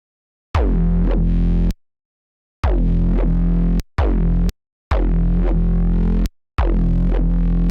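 A harsh, buzzing synth plays five sustained distorted notes with short silent gaps between them, loud and gritty.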